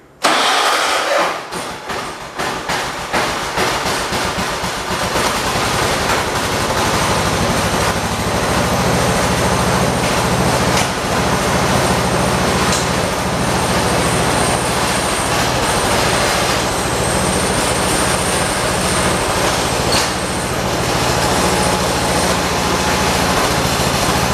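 A 216 tractor engine cranks briefly and catches, then settles into a loud, steady idle that runs close by without pause and with no talking.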